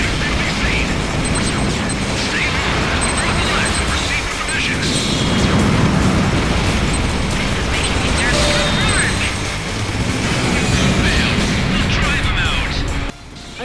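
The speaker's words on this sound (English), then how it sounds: "The sounds and music have also received a tremendous facelift as well, with rocking tunes and huge explosions filling the speakers." Afterburner Climax jet combat game with dense, continuous booming explosions and crashes layered over loud rock music, a steady wall of sound throughout.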